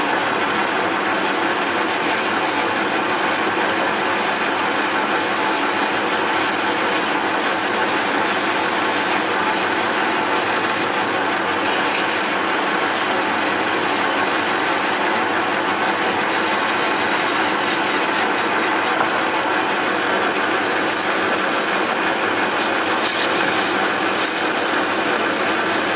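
Valves of a 1988 Jeep XJ engine are hand lapped with 100 grit compound, a steady gritty rubbing and scraping that continues without letup, with brief pauses in the strokes now and then.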